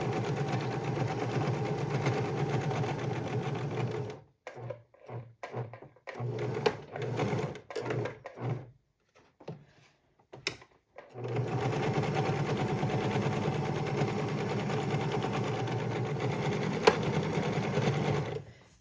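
A sewing machine runs steadily as it stitches around fabric drink coasters, with a loud continuous motor hum, breaking into several short start-stop bursts midway before resuming a long, even run.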